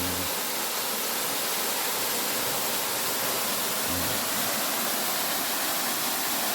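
Small waterfall pouring through a gap in the rock at a Thai national park, a steady broadband rush of water heard close and continuous with no voices.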